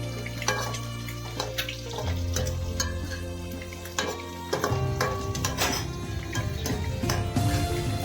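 Mushrooms tip into a pan of frying masala, then get stirred with repeated scraping and clattering spatula strokes over a steady sizzle; close and busy, nobody speaking.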